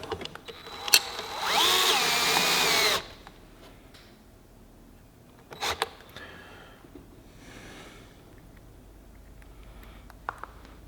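A power drill runs in one steady burst of about two seconds, driving a small screw into pre-marked holes on a garage shop cabinet, followed by quieter handling clicks and brief knocks.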